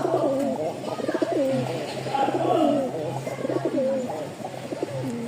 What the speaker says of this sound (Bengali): 2 পিচ কবুতর আছে মাশাআল্লাহ।